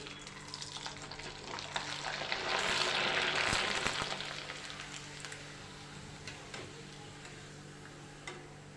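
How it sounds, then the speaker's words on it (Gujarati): Sago papad fry in hot oil, a soft, continuous bubbling sizzle that swells louder in the middle and then settles back to a quieter hiss, with no talking. "તો આવી રીતે આપણે બીજા પાપડ પણ તળી લઈશું"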